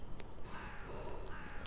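In The Unforgotten Ordinance, a bird gives two or three raspy caws spaced across a moment, moderately loud over a soft ambient wash.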